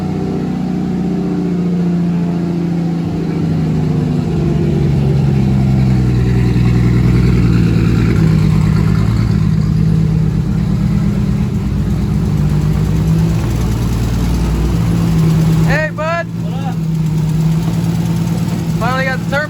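A turbocharged Nissan R31 car engine idles loudly and steadily at close range, its low rumble rising and falling with light revs throughout, while people talk over it; a few bright squeaks cut in near the end.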